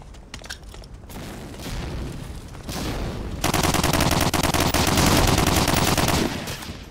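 Rapid automatic gunfire in the multiplayer shooter Medal of Honor: Allied Assault on the Algiers map, dense overlapping shots that build from scattered bursts into a loud, continuous fusillade.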